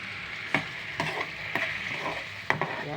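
An egg dish frying in a pan as it is stirred, four or five distinct spatula scrapes over a constant nearby sizzle.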